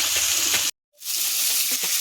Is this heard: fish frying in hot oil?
yes